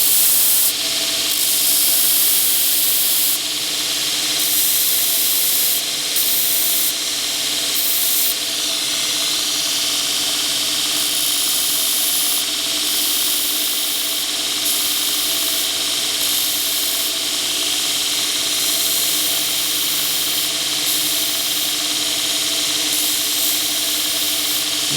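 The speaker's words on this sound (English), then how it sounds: "this is a Birkin grinder. And he's got an 80 grit ceramic aluminum belt on here." A Birkin belt grinder running an 80 grit ceramic aluminum belt while grinding a knife, a loud sustained high-pitched abrasive hiss and whine with brief dips as the blade lifts off, close and steady.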